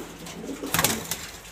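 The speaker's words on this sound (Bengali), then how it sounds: "এখানে অনেকগুলো কবুতর আছে" Pigeons give a short, soft cooing phrase close by, with a brief louder flutter or rustle midway.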